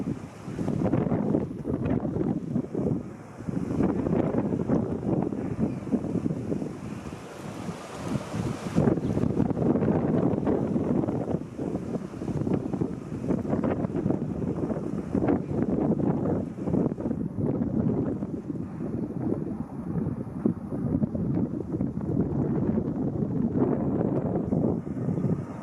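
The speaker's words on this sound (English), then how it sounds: "Boy, this wind is annoying." Wind buffets the microphone at a stadium construction site, a steady loud rumbling roar that fills the whole stretch with only slight surges and no speech.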